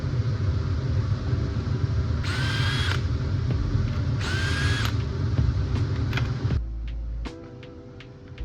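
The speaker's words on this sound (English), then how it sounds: "do a little bit of sanding on it just to get it to clear" A power sander works the engine girdle of a 1994 Ford F-150 hot rod build to clear the drive shaft. It makes a loud, steady grinding drone with two sharper high-pitched bursts partway through, then cuts out near the end, leaving faint clicks.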